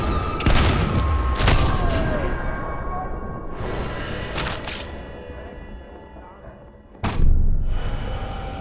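Sniper rifle shots ring out in the World War II shooter game Sniper Elite 4: several sharp, loud cracks with booming echoes at irregular intervals, the last shot the loudest, amid rumbling game ambience.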